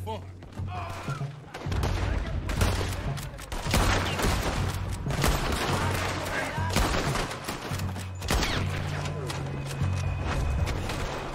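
Rapid gunfire from Red Dead Redemption 2 on Guarma: loud, dense bursts of shots and thumps cracking almost continuously over a low hum, with a voice faintly mixed in among the firing.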